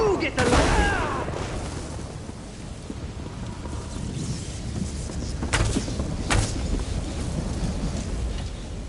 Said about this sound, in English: Now you get the lightning!